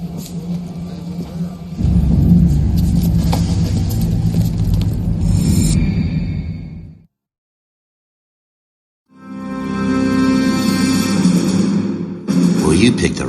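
A bus engine rumbling low and steady at an early-1940s Marine recruit depot in L.A. Noire, with voices talking over it, then a brief silence before the drone resumes.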